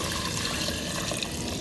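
Water poured into a pot of chicken for tinola, a continuous splashing gush under a faint kitchen hiss, ending in a short clink.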